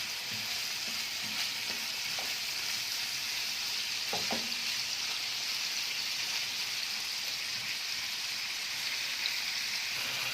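Alexandrian sausage fries in a pan, releasing its own fat in a steady, dense sizzle that runs unbroken throughout, with a few faint clicks of stirring near the start and middle.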